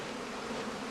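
Honeybees kept in stacked woven-basket skeps give off a steady, dense buzz, a continuous close hum with no breaks and no voices.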